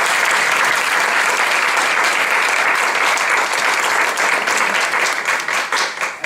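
Sustained applause from an audience at a Toastmasters club meeting celebration, dense steady clapping that fills the room for several seconds and tapers slightly at the end.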